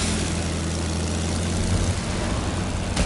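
A steady, loud propeller airplane engine drones in a video game, a continuous low hum with no pauses.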